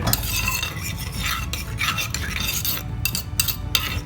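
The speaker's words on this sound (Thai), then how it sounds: "เดี๋ยวจะใส่น้ำล้างครกไปด้วย" Mortar rinse water poured into a simmering Thai curry, a busy close-up splashing and stirring swish with faint bubbling, steady throughout and without talk.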